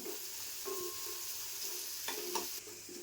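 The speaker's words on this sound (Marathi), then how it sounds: "आता थोडंसं हे परतून घेते लसणीचा कच्चापणा जाईपर्यंत थोडंसं परतून घ्यायचं" Garlic sautés in a pan for a methi vegetable dish, a soft, fairly faint sizzle with a few light stirring scrapes and clicks, no talking.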